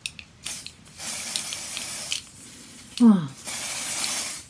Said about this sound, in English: It's a primer and it's like setting spray, air flush, which you're supposed to use